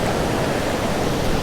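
Dense, steady roar of water plunging over a big waterfall on a river, loud and close, with no breaks in the rushing wash.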